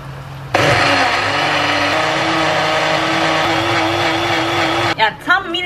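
A blender whirs loud and steady for several seconds, mixing lemon juice with soda, then cuts off abruptly as a voice begins to speak.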